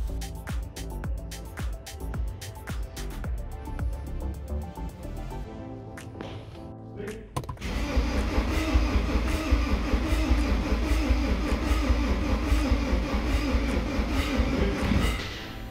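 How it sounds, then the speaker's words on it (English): BMW M47N2 diesel engine from an E90 320d, running with a valve not seating in the cylinder head. A quieter stretch gives way to a loud, steady mechanical clatter and roar that lasts to the end. "That noise you are hearing is coming from the cylinder head"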